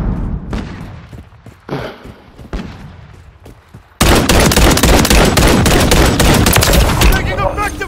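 Call of Duty Modern Warfare 3 team deathmatch gunfire: scattered distant shots and thumps for the first half, then a sudden loud, dense burst of sustained automatic fire and shooting filling the rest, with game voices under it.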